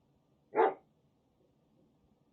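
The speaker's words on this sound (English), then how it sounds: "What are you barking about?" A single dog's bark, one short sharp woof at moderate distance in an otherwise quiet room, with a faint hint of another bark at the very end.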